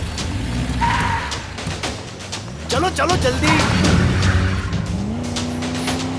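A car engine roars and pulls away fast with a tire squeal during a tense police-station escape, loud and close, while urgent voices shout over it.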